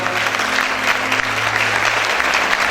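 A church congregation gives a loud, sustained round of applause at a Sunday morning service, dense clapping filling the room steadily with a low hum underneath.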